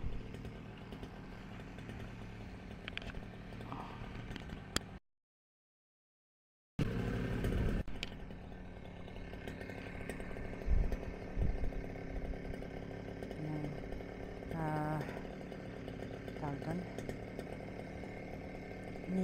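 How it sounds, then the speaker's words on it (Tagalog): A new grass cutter running on a farm. Its engine gives a steady, buzzing drone that cuts out for a couple of seconds and then resumes, with scattered knocks and faint background noises. "Ni-smoothing ni Katrops yung bagong grass cutter"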